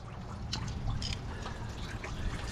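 Coolant pours and trickles steadily from the radiator petcock of a Dually truck, a soft continuous liquid stream heard close with no talk.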